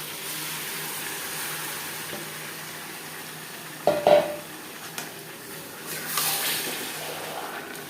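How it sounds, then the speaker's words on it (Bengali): Marinated chicken tossed with onions in a frying pan for chicken biryani gives a continuous sizzle and frying hiss, with a couple of clattering stirring scrapes near the middle. "পেঁয়াজের সাথে ম্যারিনেট করা চিকেন বেশ ভালো করে মিক্স করে দেব"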